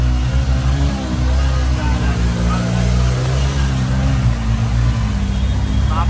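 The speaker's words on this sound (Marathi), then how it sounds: "फायनली रिक्षा चालू" An auto rickshaw engine runs with a loud, close, throbbing low rumble that rises and falls in pitch as it revs, while someone talks over it.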